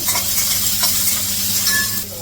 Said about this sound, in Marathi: हे दोन कांदे कापून घेतलेले ते टाकते याला चांगलं परतून घेतलं लालसर करून घेते